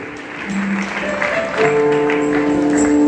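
A church congregation claps in acclaim at a consecration ceremony for men of God, steady applause rising under sustained organ-like tones.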